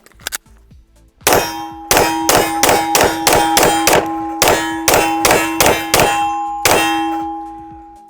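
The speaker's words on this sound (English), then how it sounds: "We are shooting Sig Sauer 180 grain 10 mil" Sig Sauer 180-grain 10mm rounds from a P320 strike a steel target in quick succession, about a dozen sharp ringing clangs, most evenly spaced, each followed by a short metallic ring, with faint earlier pops at the start.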